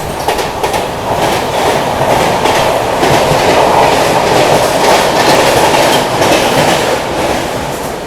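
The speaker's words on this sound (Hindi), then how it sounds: "ये आ गई तेजस" The Tejas Express, India's private Ahmedabad–Mumbai train, passes close by at speed, a loud continuous rumble with rapid clickety-clack of wheels over rail joints and no talking.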